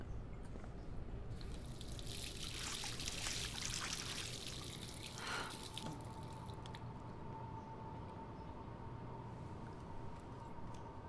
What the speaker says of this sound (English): go use the faucet.